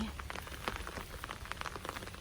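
Rain falls steadily while someone picks watercress outdoors, a soft patter of drops on surfaces, quiet and continuous with no voices.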